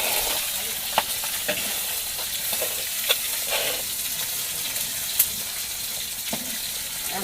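Pangas fish frying in a home pan: a steady dense sizzle and crackle throughout, with a few sharp pops and spatters rising above it, no voices.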